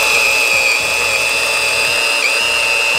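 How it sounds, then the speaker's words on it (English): A corded 1/2-inch drill with a speed bore bit bores through wood, a loud sustained high whine that holds steady and dips briefly under load, heard alone. "a 1/2-inch drill that's got a lot of torque, and that baby will go right through there"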